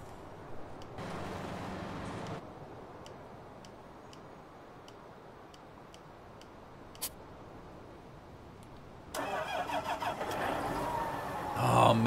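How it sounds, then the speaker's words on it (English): A John Deere tractor in Farming Simulator 19 idles quietly with faint ticking, then its engine starts and revs into a loud, close, throbbing rumble near the end. "Oh man, that thing sounds so sweet. I love this tractor."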